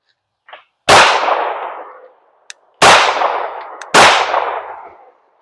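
A PSA Dagger pistol loaded with Dagger micro magazines fires three sharp, loud, close shots at uneven intervals, each ringing out with a short echoing tail, with small mechanical clicks between them.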